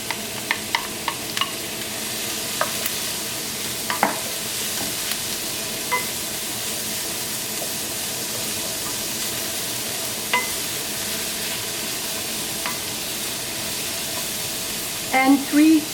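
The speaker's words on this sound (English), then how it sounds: "organic, unfiltered olive oil from Italy in a hot pan" Chopped onions sizzle steadily in a hot pan of organic unfiltered Italian olive oil, a constant close frying hiss with a few small clinks and stirring sounds scattered through.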